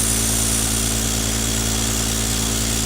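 A live steam RC boat engine running loud and close, a dense, steady buzzing whir with constant hiss and no breaks across the short stretch.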